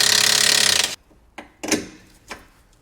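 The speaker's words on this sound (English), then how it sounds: "use a gun to separate the bolt" An impact gun loosens a bolt on a Vauxhall Corsa front wishbone, firing one loud, rapid hammering burst for about a second, followed by a few separate clanks and knocks of metal close by.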